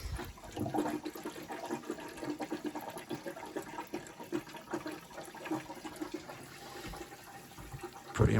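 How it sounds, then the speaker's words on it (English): Water rushes through the pipes of a home heating system during fast filling, a quiet, steady hiss and gurgle with small fluctuations that runs the whole time with no talking. "Water leaves here, travels 250 feet, comes back here"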